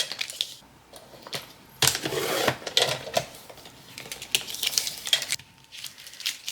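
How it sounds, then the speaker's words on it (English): Scraps of heat transfer vinyl being cut into one-inch strips, with a run of short crisp snips and rustling handling noises, close and fairly loud, no talking. "what I'm going to do is cut them in 1-inch strips"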